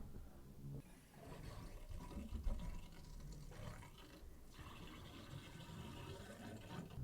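Water rushes back into household pipes at a washing machine valve after the supply is turned on, a steady hiss and gurgle of filling flow, moderately quiet and close, with no speech.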